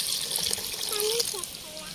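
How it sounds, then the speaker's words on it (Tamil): Water is poured into a pot of goat intestine curry, a short steady gush and trickle heard up close over a couple of seconds. "இப்போ வந்து தண்ணி சேர்த்துக்கலாம்."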